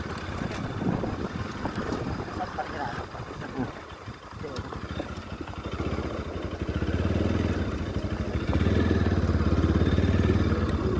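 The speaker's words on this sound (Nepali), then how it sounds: "बाइकै लिएर जानु मिल्छ" A motorcycle rides along a road toward the natural swimming pool at Sisneri, Nepal, its engine droning and rising toward the end under heavy wind buffeting and people talking.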